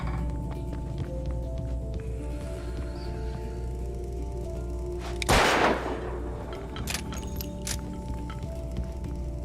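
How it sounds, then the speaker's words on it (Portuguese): A single sharp gunshot cracks out in the Alan Wake video game, loud and sudden midway through a quiet, humming game ambience, then fades into a short tail. "Por que eu dei um tiro naquilo?"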